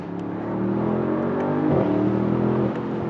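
A Mercedes-AMG SL63 with its V8 engine holds a steady, loud drone that dips briefly as it downshifts, then rises again as the car accelerates hard, with no talking over it.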